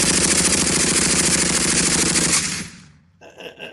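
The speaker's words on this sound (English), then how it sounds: "Didn't the rest of you hear that machine gun?" Machine gun fire rattles in a loud, sustained burst of rapid shots for about two and a half seconds, then cuts off, leaving a few faint scattered clicks and echoes.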